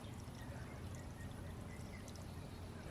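Dirty flush water drains from the radiator of a 2001 Ford Ranger onto the ground as a faint, steady, continuous pour and trickle with no voices.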